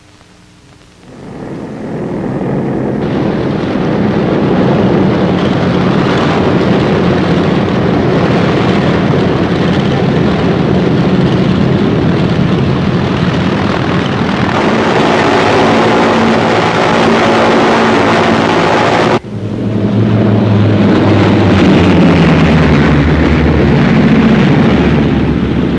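C-47 transport aircraft towing gliders during a WWII airborne operation roar in a loud, continuous, rumbling propeller drone that swells in after a quiet start and holds steady, with a brief dip before the engine noise resumes.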